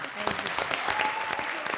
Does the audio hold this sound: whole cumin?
no